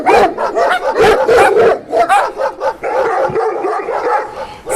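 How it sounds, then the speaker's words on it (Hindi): Several dogs barking and yipping excitedly in a rapid, overlapping flurry as they give chase after a jackal, loud and close throughout with a few whimpering cries mixed in. "सभी कुत्ते उसका पीछा करने लगे।"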